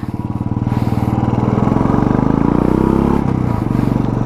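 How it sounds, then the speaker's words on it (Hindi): A Royal Enfield Classic 350 motorcycle fitted with an aftermarket replica exhaust runs close by with a steady, loud, rapid thumping beat that swells briefly in the middle, heard alone. "इसके एग्जॉस्ट पे मत जाना, इसका जो एग्जॉस्ट है वो आफ्टर मार्केट लगा हुआ है रेप्लिका"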